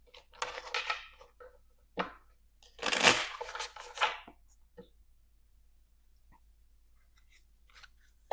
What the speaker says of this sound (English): I'm gonna pull 7 cards.